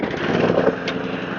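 A Hayter Spirit 41 petrol lawn mower engine runs steadily nearby with a buzzing, rattling drone, loud and continuous throughout, just after a pull cord replacement.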